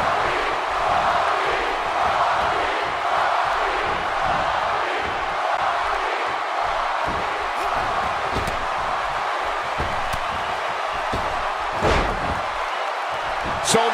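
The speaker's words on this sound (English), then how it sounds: "The crowd never gets tired of The Rock's antics." A WWE 2K18 arena crowd at a WrestleMania match, a sustained roar of cheering that surges and dips, with sharp slams from the ring and commentary voices over it.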